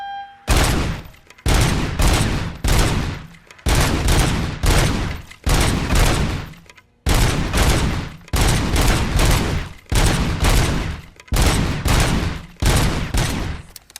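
Gunfire in the Robocop: Rogue City video game, heard as loud, rapid bursts of shots repeating in roughly one-second volleys, close and continuous with no talking.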